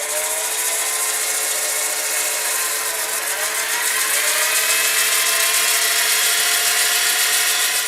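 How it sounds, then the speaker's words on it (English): A Woodturner's Wonders angle grinder runs at a lathe, giving a loud, steady high whine that keeps going without a break, with a slight shift in pitch partway through and no talking. "angle grinder from Woodturner's Wonders. Got a nice profile, and it's got a nice trigger that I like"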